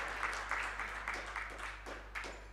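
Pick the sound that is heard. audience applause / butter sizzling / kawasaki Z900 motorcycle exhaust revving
audience applause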